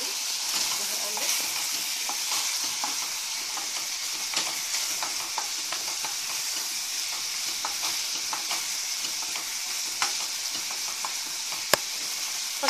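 Veal with onions and a spoonful of sumac frying in a pan while being stirred: a steady, bright sizzle with frequent small scrapes and clicks of a spoon, close and continuous, no voices.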